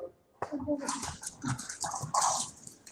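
A dog gives a few soft whimpers and yips indoors in a house, close and brief, with a person speaking around the sounds.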